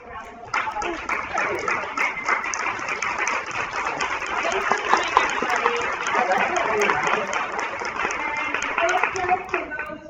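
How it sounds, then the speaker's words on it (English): An audience at a professional society's monthly meeting applauds two speakers, steady dense clapping that swells slightly and holds loud throughout, with some voices mixed in. "please stand up, give these two a round of applause"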